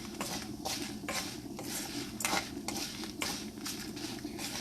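Red chilies frying in a little oil in a pan, with a soft steady sizzle under repeated scraping and stirring of a utensil against the pan, fairly quiet and close.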